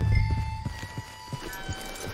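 Horse hooves clip-clopping in the video game Red Dead Redemption 2, a steady walking rhythm of close, moderately loud hoof beats with faint ambient tones behind them.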